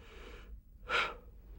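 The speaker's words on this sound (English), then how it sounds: "A couple of deep breaths again." A single deep breath during a 1964 calisthenics exercise session: a soft drawn inhale, then a brief pause, then a sharper, louder breathy exhale, close and isolated.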